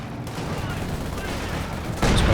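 Distant machine gun fire and explosions in a Company of Heroes 2 battle, dense crackling bursts running throughout, with a louder blast near the end; a commentator talks over it.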